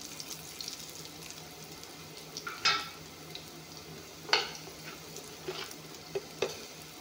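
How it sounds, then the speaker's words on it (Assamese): Food fries gently in a pan at home, a soft steady sizzle with occasional louder clinks and scrapes of stirring, with no talking. "এইখিনি অলপমান ভাজি ল'ম।"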